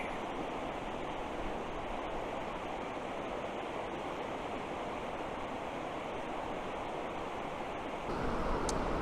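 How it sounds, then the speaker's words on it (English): A clear mountain stream flows steadily with a dense, constant rush of water, close and even throughout, growing slightly louder at the very end. "Over this crystal clear, beautiful mountain stream"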